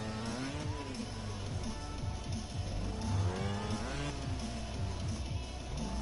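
A motorbike engine held at full throttle in a PS4 racing game, its whine climbing and falling in pitch through repeated revs, steady and close, with no talk over it.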